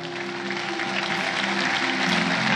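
Church congregation clapping steadily and loudly to honor people coming forward at an altar call, a dense continuous wash of applause throughout.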